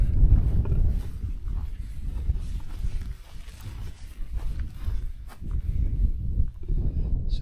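Wind gusts roar in heavy, rumbling buffets across a mic at a wild camp on top of the Mendip Hills, swelling and easing with a brief lull midway.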